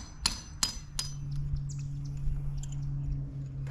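Several sharp hammer taps, about three in quick succession, as a drill bit is set into place before breaking up a concrete pool, with a steady low hum underneath and faint chirps.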